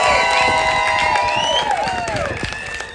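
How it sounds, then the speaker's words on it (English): Wedding guests applaud and cheer in a lively crowd, clapping and shouts filling the clip at a steady loud level with some voices rising above the noise. "Applause!"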